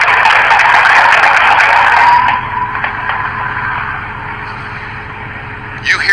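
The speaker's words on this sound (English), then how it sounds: "A car speeds the wrong way down Broadway." A car speeds the wrong way down Broadway in downtown St. Louis, heard from a loft at Ballpark Village as a loud, close engine roar that fades over a few seconds into a fainter, lingering rumble.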